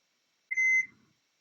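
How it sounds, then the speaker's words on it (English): A single kitchen timer beep in a home kitchen during brunch baking, one clear sustained electronic tone lasting about a third of a second, close and alone against silence. "Timer here, maybe."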